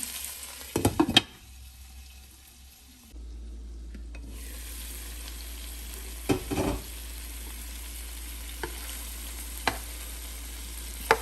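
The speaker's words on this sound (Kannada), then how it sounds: "ಇನ್ನೊಂದು ಐದತ್ತು ನಿಮಿಷ ಇದನ್ನು ಅದೇ ಥರ ಫ್ರೈ ಮಾಡೋಣ" Kerala style chicken drumsticks fry in a pan with a close, steady sizzle, punctuated by a few clattering turns and taps of a utensil, no talk.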